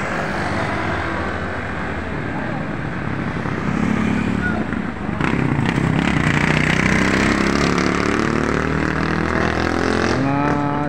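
Private cars and motorcycles pass along a crowded street closed to jeepneys, their engines droning and revving continuously at close range over a steady roar of crowd noise.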